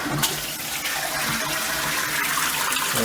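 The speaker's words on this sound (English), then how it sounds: "flush goes, and you get a little washy tap that goes, and that puts the water, that water in there goes down into the next one" A computerized Japanese spray toilet flushing in an apartment, a loud, continuous gushing rush of water that runs steadily from start to finish at close range.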